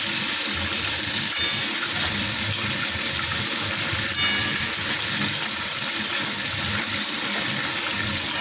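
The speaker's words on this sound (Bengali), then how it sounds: "ভালো করে তেলে ভেজে বেগুনগুলোকে তুলে রাখবো।" Eggplant slices frying in oil produce a continuous, close hissing sizzle with soft bubbling and a few faint clinks, steady in loudness throughout, with no one speaking.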